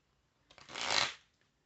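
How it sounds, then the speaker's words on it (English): Deck of small cards shuffled once, a single quick riffle swelling and fading over about a second, close and clear against quiet. "I have a few little cards here that I have here, and I'm going to go on and shuffle up."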